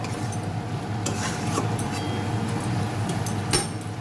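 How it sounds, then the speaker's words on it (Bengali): Chicken for korma stirred and fried in a pan, with a steady sizzle under repeated scraping and clinking strokes of a utensil against the pan, close and continuous. "ভালো করে মাংসটা আমি কষাবো, নাড়াচাড়া দিয়ে নেব"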